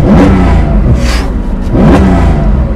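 A Porsche 911 2.4 T flat-six with a SCART exhaust, just started and running loud and close, revving in two surges with a steady rumble between them.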